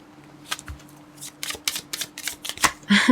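Tarot cards being shuffled and drawn during a Thai fortune reading, a run of soft, papery riffles and flicks that build toward a denser burst of shuffling at the end, close and otherwise quiet.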